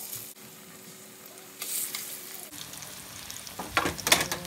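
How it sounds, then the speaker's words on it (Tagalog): Banana slices for saging rebosado fry in hot oil, a steady soft sizzle with brief stirring scrapes and rising crackle, close and fairly quiet with no talk. "Ayan, piniprito ko na yung saging."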